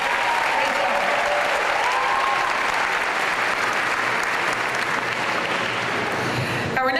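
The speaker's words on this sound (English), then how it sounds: "Let's give a round of applause to our excellent MCs." Audience applause at a school moving-up ceremony, a steady, dense wash of clapping filling the hall for the full length, fairly loud and even before thinning at the very end.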